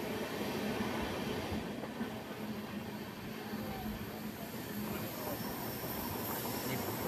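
A passenger train runs through a tunnel on the approach to Lonavala station, giving a steady, loud, enclosed roar of wheels on rails with faint squealing and no break for the whole stretch.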